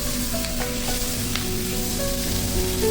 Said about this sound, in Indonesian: Lanjut ini kita tumis hingga bawang bombaynya matang dan layu.